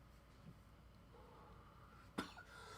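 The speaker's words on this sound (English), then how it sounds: "I had to cough." A single sharp cough lands near the end of a quiet, faintly hissy stretch, with a brief throat sound just after it.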